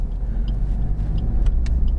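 Suzuki Swift Sport 140 PS small hatchback rolling slowly, a close, steady low rumble of engine and road noise with faint ticking and clicks from the chassis, no talk.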